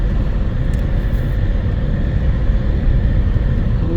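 A Suzuki Mehran car on a narrow, landslide-damaged mountain road, a steady low engine rumble and road noise holding throughout, fairly loud and close, with no voices.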